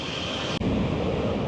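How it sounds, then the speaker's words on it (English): An EasyJet passenger jet takes off from Gibraltar airport as a broad, steady distant roar with wind buffeting the microphone and one brief dropout, with no voices. "EasyJet plane just took off."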